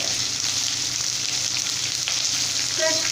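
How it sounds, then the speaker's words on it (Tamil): Small onions and curry leaves sizzle steadily in hot oil, a continuous loud crackling hiss with occasional stirring scrapes. "இப்போ வெங்காயம் கருவேப்பிலை ரெண்டும் சேர்த்து நல்லா வந்து வதக்கி விட்டுக்கலாம்."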